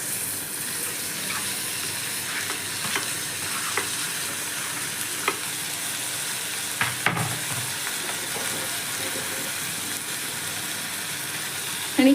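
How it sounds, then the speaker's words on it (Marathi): Onion frying in a pan for Kashmiri dum aloo, a steady close sizzle that runs throughout, broken by occasional scrapes and clinks of a spoon stirring. "आपला कांदा इथे भाजत आलेला आहे"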